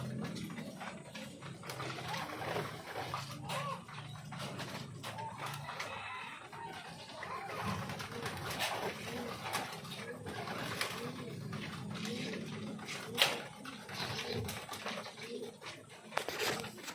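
Pigeons cooing in their cages, soft low murmuring calls that go on steadily with faint rustling and scattered background noise, moderately distant and quiet, and no speech.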